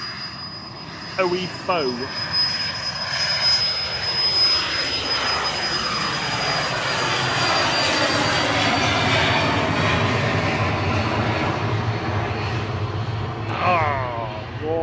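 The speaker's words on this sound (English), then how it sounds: "This little Citation Mustang off to Northolt now" A small Cessna Citation Mustang business jet takes off from Manchester Airport bound for Northolt, its engine roar building and sustained with a high whine on top, while people talk over it at the start and end.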